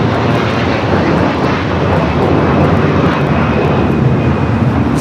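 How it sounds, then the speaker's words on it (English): A Hawaiian Airlines A330-200 takes off, its jet engines producing a loud, dense, constant roar that stays at full strength throughout, with no voices. "Takeoff is Hawaiian Airlines 803 taking off to Honolulu on the A330-200"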